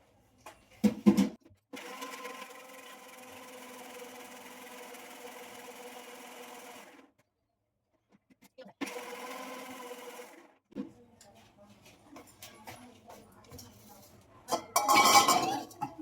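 A mixer grinder with a large jar grinds coconut into a paste with buttermilk, running in two loud whirring bursts separated by pauses. Clinks and handling noises follow near the end.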